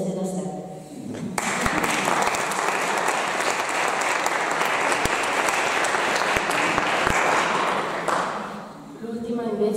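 An audience breaks into sustained applause, a dense, even roar of many hands clapping for about seven seconds before it cuts off, with a few sharp taps and some voices at the edges.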